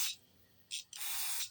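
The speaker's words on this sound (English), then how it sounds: "I'll spray that off." Three short hissing sprays of spray cleaner on a Stihl FS45 carburetor, a brief burst, another quick one, then a longer steady spray, close and fairly loud in a quiet room.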